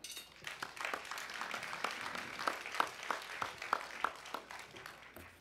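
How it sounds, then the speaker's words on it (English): Sparse conference audience at a prisoner reentry event gives light, distant applause, scattered individual claps standing out over a soft, fairly quiet patter. "I'd like a warm round of applause for my dear friend Joe Hayden"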